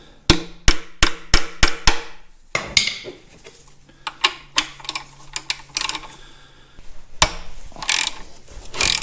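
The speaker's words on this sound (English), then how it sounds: "Now to fit the square socket on it, tap that one on just a bit." On a Caterpillar D2 tractor, a hammer taps a square socket onto a rusty bolt head in a quick run of sharp metallic blows, followed by clicking ratchet strokes and more taps, close and loud.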